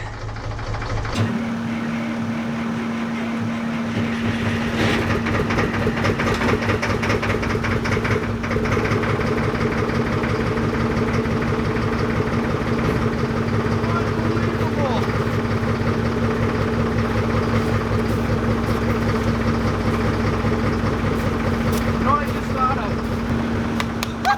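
A Ford L9000 dump truck diesel engine cold-starts after sitting with summer fuel and settles into a loud, steady idle with a droning hum. An excited voice speaks over the running engine.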